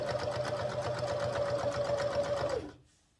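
A sewing machine stitches two pieces of fabric together along a half-centimetre seam, running in a steady, rapid, close mechanical rhythm before stopping just before the end.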